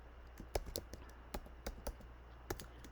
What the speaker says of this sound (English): I got to type in the box